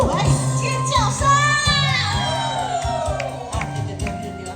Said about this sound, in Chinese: 来尖叫声！